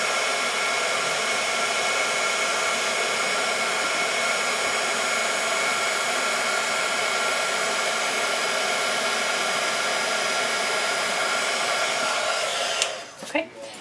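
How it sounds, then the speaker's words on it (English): A heat gun used for heat embossing a card blows with a steady, loud hiss and whir for about thirteen seconds, then cuts off, with a few handling clunks at the end. "I'm going to go ahead and heat emboss this"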